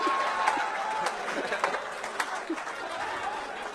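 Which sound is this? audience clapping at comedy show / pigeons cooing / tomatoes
audience clapping at comedy show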